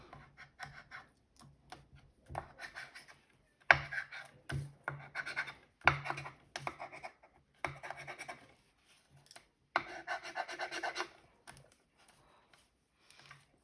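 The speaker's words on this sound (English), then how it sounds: "I would just burnish that down so that it sticks good" Paper piece burnished down onto a handmade card during a papercraft project, heard as intermittent dry rubbing and scratching strokes in short bursts with pauses between, close and fairly quiet, no talking.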